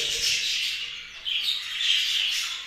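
A young green show budgerigar chick, still in the nest, gives thin high chirping calls, a few close squawky bursts with no one speaking.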